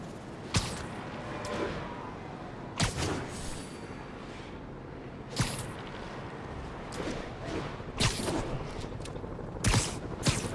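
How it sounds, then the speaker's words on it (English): Gunfire in the video game Marvel's Spider-Man Remastered: sharp shots crack out every two to three seconds over a steady background of city and game ambience, moderately loud and fairly close. "we have reports of gunfire coming from multiple vehicles"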